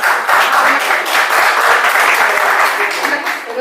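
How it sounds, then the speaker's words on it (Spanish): A group at a family constellations workshop applauds, brisk dense clapping close by that holds steady, with faint voices mixed underneath. "aplausos para ustedes."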